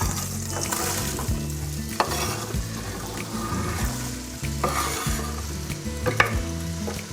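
Onion frying in butter in a heavy Dutch oven for a wild turkey chili, with a steady sizzle and occasional stirring scrapes and clinks throughout, close and moderately loud.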